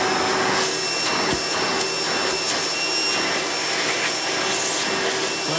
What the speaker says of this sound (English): this is a direct air vacuum, this tends to produce more airflow than suction